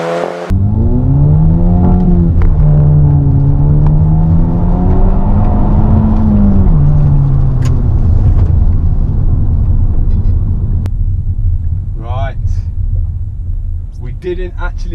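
Loud Audi TT Mk2 with 100,000 miles accelerating hard with traction control on, engine note rising and falling through gear changes over steady road rumble, with brief tire or whine squeals near the end.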